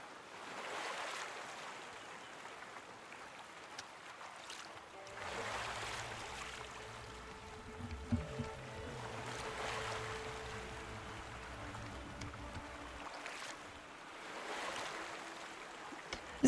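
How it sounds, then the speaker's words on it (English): A boat glides across water in the video game Infinity Nikki, with soft rushing waves and gentle splashing that swell and fade at a moderate level, while a low hum of music runs underneath. "just going around on a boat"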